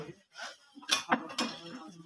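Ceramic dinner-set plates, cups and bowls clink together in a few light, bright knocks and taps close by, irregularly spaced with short gaps between them.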